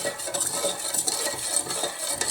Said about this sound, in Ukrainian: розчиняємо добре сіль.